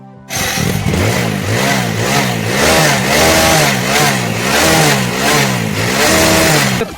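A Hero Passion Pro motorcycle engine with a fault, smoking from the exhaust, runs loudly and close, its pitch rising and falling in rough, uneven surges with a rattling, knocking undertone throughout.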